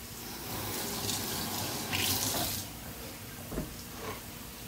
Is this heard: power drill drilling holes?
no